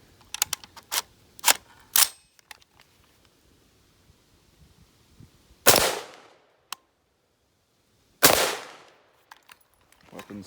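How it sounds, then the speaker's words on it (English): An XM16E1 rifle on a range fires two loud, separate shots a couple of seconds apart, each ringing out sharply, after a series of small mechanical clicks and handling sounds. "So I'm just gonna fire the last 2 out of the magazine"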